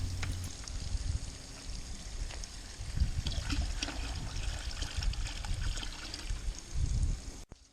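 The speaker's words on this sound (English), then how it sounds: "Here I'm making a solution of 10 parts water to 1 part acid to soak or pre-soak the filter cartridges." Water is poured steadily into a container to mix a ten-to-one water and acid soaking solution for swimming pool cartridge filters. A continuous close splashing stream runs throughout with a few surges, then stops abruptly at the end.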